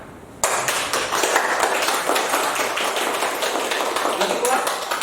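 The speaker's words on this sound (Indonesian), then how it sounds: "Baik, coba tepuk tangan." A group claps on cue during a morning warm-up before a lesson, quiet at first, then a sudden onset of dense, steady clapping that continues for several seconds.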